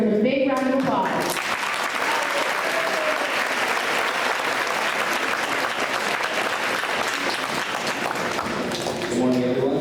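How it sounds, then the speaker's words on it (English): A school assembly audience applauds steadily for several seconds, with dense, loud clapping filling the room and voices mixed in near the start and end. "Give him a big round of applause."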